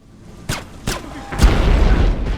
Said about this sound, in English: Those explosions are really kind of big.